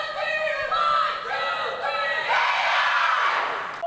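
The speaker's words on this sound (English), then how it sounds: "But ladies, take us out with a cheer" A girls' team from Sacred Heart Prep shouts a cheer together, several young voices chanting in unison, then rising into a loud whooping yell at the end.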